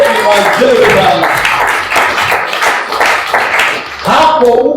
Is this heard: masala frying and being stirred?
no